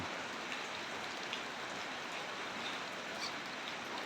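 Night rain in late February pours down in an unbroken, close hiss, scattered drops pattering on surfaces within the steady wash, no speech present.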